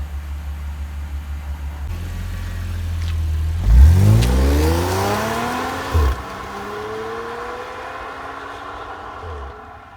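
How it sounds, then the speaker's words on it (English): An Audi S4 engine idles low, then revs hard under load on a road with a rising exhaust roar as it accelerates, a second blip following before settling into a steady drone. "I think the exhaust is actually quieter than the Scorpion"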